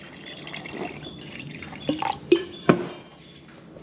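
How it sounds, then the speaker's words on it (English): Water poured into a cup of baking soda being mixed to clean a truck battery, heard as a few soft drips and splashes with a couple of sharper liquid hits toward the end, close and fairly quiet. "Go ahead and pour some water in there."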